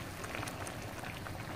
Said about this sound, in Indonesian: rebuskan daun ubi ini sehingga cukup lembut